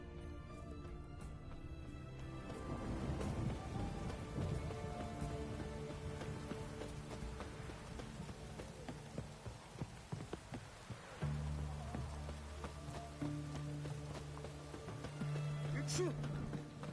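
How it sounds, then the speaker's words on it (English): Rain falls steadily in The Witcher 3 game world, a constant soft patter under game music and character voices talking throughout. "It's raining, of course it's going to be damp."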